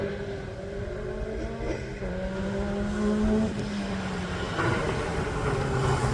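A Crosley car climbs the Craigantlet hill climb course, its engine holding a steady, buzzing tone that rises in pitch as it accelerates, heard moderately loud and fairly close throughout without speech.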